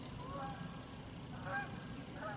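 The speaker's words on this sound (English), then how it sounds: "Here, got some geese coming over." Flock of geese flying over a Michigan field during bow season, several distant honks in loose bursts above a quiet outdoor background.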